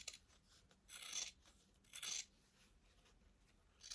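Scissors snip through the fabric edge of a hand-sewn bookmark in two short, crisp bursts of cutting, close and fairly quiet, with faint handling rustle between them.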